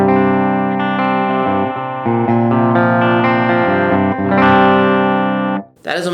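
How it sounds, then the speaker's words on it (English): Electric guitar with bridge pickup through the Axe-Fx III Cameron CCV 100 clean channel model, a run of bright sustained chords and notes with chorus-like shimmer, played alone and cut off by a short scrape at the end. "So the clean channel, I say the clean channel, it's channel 1, it sounds like this."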